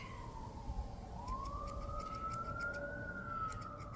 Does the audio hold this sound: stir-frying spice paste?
no